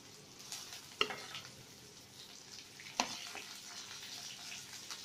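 Vegetables stir-fry over a high flame with curry leaves and chillies, making a faint, steady sizzle broken by two sharp spatula knocks against the pan about two seconds apart. No one speaks.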